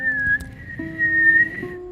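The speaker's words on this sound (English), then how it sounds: "the whistling is not really working" A person whistling a short, clear tune of a few sustained notes in changing pitch, close and fairly quiet, without talk.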